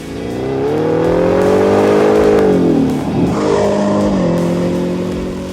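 Ford Raptor R pickup truck engine revving loudly up and down in a sustained, close roar with a brief dip before climbing again, no talk over it.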